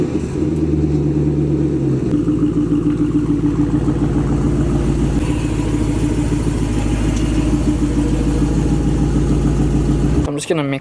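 A Jeep SRT's engine runs steadily and loudly throughout, a deep continuous rumble with a shift in tone around two seconds, cutting off near the end.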